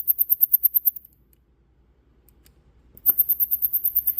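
Loud, sharp electronic clicking from a Mouseblocker rodent repeller in fast regular pulses, cutting out for two seconds of near silence, then resuming.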